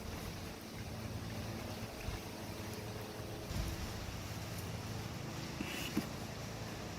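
Steady outdoor wind rushes and buffets the microphone throughout, a broad continuous roar with a few brief gusts, while someone works at pressing flowers.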